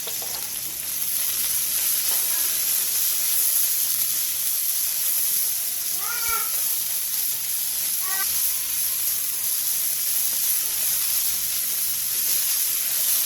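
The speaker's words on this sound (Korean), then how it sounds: "팬에 기름을 두른 뒤 부추, 다진 마늘 반 스푼, 소금 3분의 2 티스푼을 넣고 센 불에서 볶아주세요." Chives, minced garlic and salt stir-fry over high heat in an oiled pan, giving a steady, loud sizzle throughout with a couple of brief squeaky scrapes partway through and no voices.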